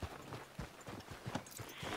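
Quick clip-clop of a horse's hooves in a video game, short irregular trotting beats close by with no voices over them.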